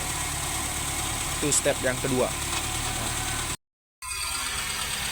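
A car engine idles steadily with the hood open while a battery terminal is removed, an even low hum heard under a voice that speaks briefly, then cut by a short dropout before it resumes.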